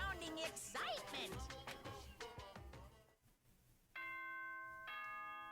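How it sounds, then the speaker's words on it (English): A two-note ding-dong chime sounds twice near the end, clean and sustained, as the in-game announcement in Danganronpa. It follows a stretch of busy game music that fades into quiet. "Ding dong, bing bong."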